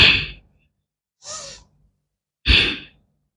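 Slow, deep breaths from a yoga breathing exercise: three breathy, airy exhales and inhales heard close up in quiet surroundings, separated by short pauses.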